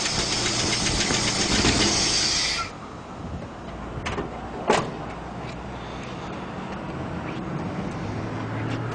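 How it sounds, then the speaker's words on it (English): A 350 Chevy pickup truck engine retrofitted with a wooden carburetor, running in a close, steady idle hum after a brief whirring mechanical sound fades out, with a single sharp knock partway through. "a 350 Chevy pickup truck that is retrofit with a wooden carburetor"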